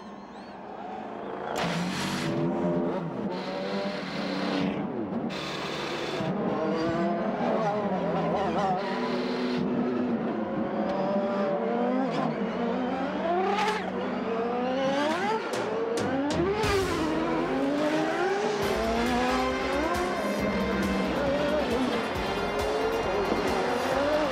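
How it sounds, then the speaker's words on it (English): IndyCar race cars at the 1996 Toyota Grand Prix of Long Beach fire up and rev, several high-pitched engines rising and falling in overlapping sweeps, loud and continuous, with an announcer's voice heard early. "Gentlemen, start your engines."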